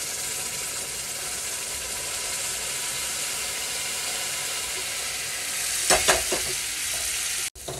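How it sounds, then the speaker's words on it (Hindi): Suji halwa sizzles and hisses steadily in a pan as sugar syrup is added and stirred, with a continuous frying sound up close and a few louder scraping stirs near the end. "बिल्कुल धीरे धीरे डालना है आपको चाशनी को, और इसको थोड़ा स्लोली स्लोली हिलाना है हलवे को।"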